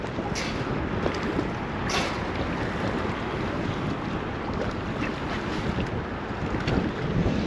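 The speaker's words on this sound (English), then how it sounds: "Wind's got up a little bit now, it's about 10 to 15 miles an hour now." Steady wind buffets the microphone on the shore of the River Humber at about 10 to 15 mph while sea fishing, a continuous close roar with gusty swells and water lapping underneath, no talking.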